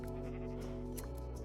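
Sheep in the Minecraft video game bleat in a short, nasal game sound over a constant low hum and background noise.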